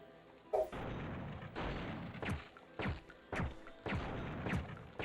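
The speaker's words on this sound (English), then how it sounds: "This man just emptied my whole clip." Rapid video-game gunfire as a whole magazine is emptied, a string of loud sharp shots in several bursts with brief gaps between them, with no talk over it.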